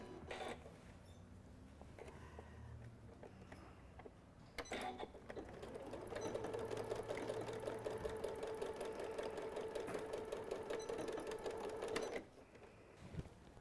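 Sewing machine back stitching the end of a seam on a stuffed fabric piece, a quiet rapid mechanical whir that starts after a few hesitant clicks, runs steadily, then stops abruptly.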